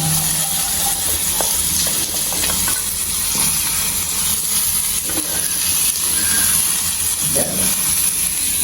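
Fenugreek seeds fry in hot oil, giving a continuous loud sizzle and hiss with scattered crackles and a few soft clinks of a utensil, up close and without speech.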